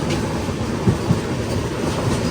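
An AC Express train pulling into Udhna Junction railway station: a loud, continuous rolling rumble with a few heavier wheel knocks, no voices.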